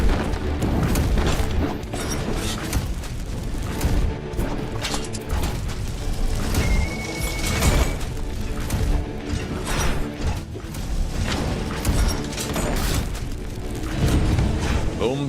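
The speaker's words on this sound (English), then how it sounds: "Boom, baby. Shoulder cannon wrecked them." Explosive booms from a shoulder cannon in the dungeon game Castle of Alchemists, thick and continuous amid clanking mechanisms, crashes and game music, with a voice talking over the din.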